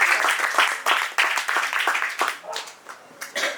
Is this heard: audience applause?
yes